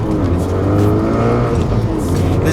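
Honda Civic Type R engine revving as it shifts through gears, loud and close, with rising and falling engine pitch inside the car.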